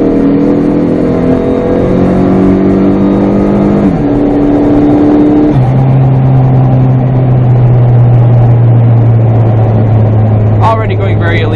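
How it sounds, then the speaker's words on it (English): A tuned Chrysler PT Cruiser GT pulling hard in second gear, its engine note rising steadily and loudly up the rev range before a shift, with boost whoosh and a faint voice near the end. "let's do a little second gear pull"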